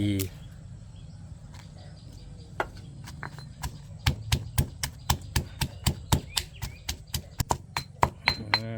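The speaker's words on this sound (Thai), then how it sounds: "ตามพริกกับกระเทียมละเอียดแล้วครับ" Chili and raw garlic pounded into a chili paste, heard as a run of sharp, evenly spaced thuds that start sparse and settle into a steady rhythm, close and fairly clear over a low background hum.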